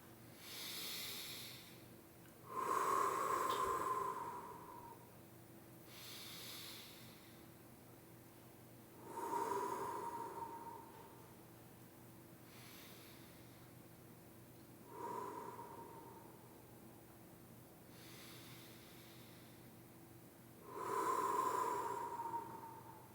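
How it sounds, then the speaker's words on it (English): Four slow, deep breaths, each a soft drawn-in inhale followed by a longer hissing exhale, spaced several seconds apart in a quiet room. "Let's take 4 deep breaths."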